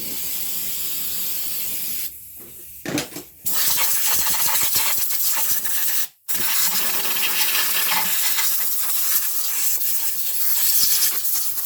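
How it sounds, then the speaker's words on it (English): Loud, close hissing spray of brake cleaner and compressed air blasting onto a car engine during spark plug work, one long continuous burst broken by a couple of short pauses and a brief cutoff midway. "Let me hit it with some brake cleaner, some compressed air."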